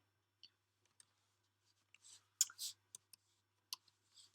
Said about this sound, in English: I'm going to type this because I can type faster than I can write.